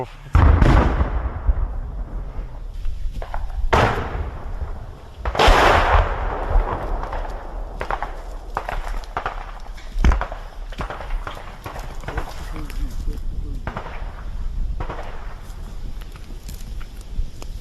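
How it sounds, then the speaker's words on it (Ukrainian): Gunfire from combat in a village in Ukraine, with sharp irregular reports, some near and loud and others more distant, scattered across a steady outdoor background. "Чуєте, стріляють."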